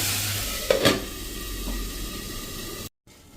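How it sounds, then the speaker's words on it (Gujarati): Salted tomatoes cook covered in a pan over a slow to medium flame, giving a soft steady sizzle and hiss, with a brief clatter near the start and a sudden cut just before the end. "હવે આપણે મિક્સ કરી અને ટમેટાને સ્લો ટુ મીડિયમ ફ્લેમ ઉપર કૂક થવા દેશું ઢાંકીને."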